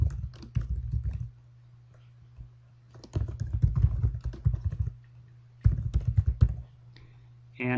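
Typing of a title on a computer keyboard, heard as three close bursts of rapid key clicks separated by short quiet gaps, with a steady low hum underneath.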